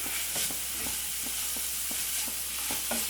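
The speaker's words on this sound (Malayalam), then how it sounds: "മസാലയിലേക്കുള്ള ഉപ്പ് ചേർത്തിട്ട് നന്നായിട്ടൊന്ന് മിക്സ് ചെയ്ത് കൊടുക്കാം" Salt being stirred into a mushroom kuruma masala in a pan: regular scraping strokes, about ten across a few seconds, over a steady low sizzle, fairly close with no voices.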